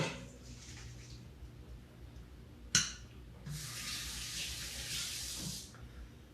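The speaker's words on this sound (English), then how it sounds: "Hold on, let me wash my hands." Hands are washed under a running kitchen tap after handling sticky maraschino cherries, a faint hiss early on, a knock, then a louder burst of rushing water lasting a couple of seconds before stopping.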